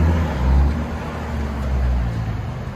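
A Ford Mustang with a five-speed manual rumbles as it drives off, a steady low engine drone that swells and eases slightly, heard at moderate distance with no talk.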